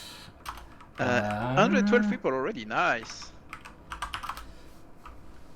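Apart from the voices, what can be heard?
computer keyboard typing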